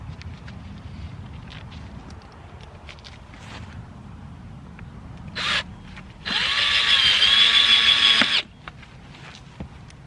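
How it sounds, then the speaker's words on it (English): Power drill driving screws into a wooden garden bed frame outdoors, with a brief burst and then a sustained two-second whir over wind noise and light handling. "I'm gonna start my screws."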